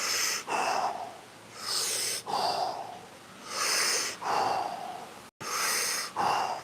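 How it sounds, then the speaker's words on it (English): Big deep breaths in and out during a breathing fitness exercise, loud and close, with airy rushing inhales and exhales alternating in a slow regular rhythm, about six to seven breaths in a row. "Few big breaths in."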